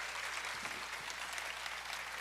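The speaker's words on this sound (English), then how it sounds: "Let's give them a round of applause, please" Audience at a Democratic club candidate forum for a Texas U.S. Senate race applauding, a steady wash of clapping from a room full of people, even and sustained throughout, with no voices rising above it.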